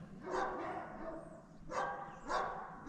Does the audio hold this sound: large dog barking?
yes